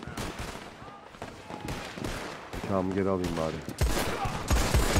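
Rapid Navy revolver gunfire in Red Dead Redemption 2 online, several close shots in quick bursts mixed with other game noise while someone talks over it.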